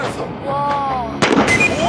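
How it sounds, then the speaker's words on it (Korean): Sodium metal reacting with water erupts in a single loud, sharp blast partway through, after a lower rumbling buildup, with noisy crackling and fizzing continuing afterward. "엄청난 폭발음과 함께 순식간에 폭발해버렸다"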